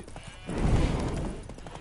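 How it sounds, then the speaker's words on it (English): Horse hooves clip-clopping with a brief whinny from a spooked horse in The Witcher 3 video game, a short burst of hoof and animal sound building in the middle and fading out, with no talk. "Spooking my horse."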